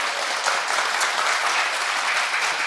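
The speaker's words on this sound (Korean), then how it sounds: "박수 한번 치실래요?" Crowd applause fills a press conference room held by pastor Jeon Kwang-hoon after his return from the US, steady and dense clapping from many hands throughout, fairly close and loud with no talk over it.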